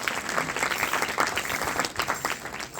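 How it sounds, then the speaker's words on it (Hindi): Dense, steady audience applause welcomes a guest at an Arya Samaj gathering at a gurukul in Dhiranwas, Hisar. Many hands clap close by without pause for the whole stretch. "तालियां बजा करके स्वागत करें।"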